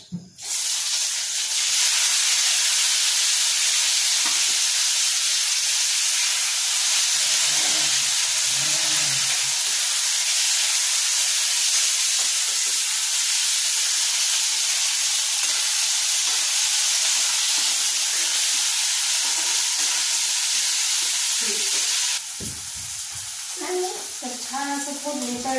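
Cumin, mustard seeds, onion, coconut, garlic, tomato and ginger fry in a pan with a loud, steady sizzle and hiss lasting throughout, easing slightly near the end when a few faint clanks and a brief voice come through.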